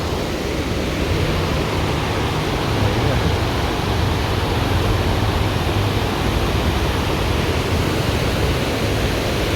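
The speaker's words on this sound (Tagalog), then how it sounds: "So, merong ilog dito." Steady rushing river flowing below a hanging bridge in the mountains of La Trinidad, Benguet, a loud, constant wash of water with no breaks.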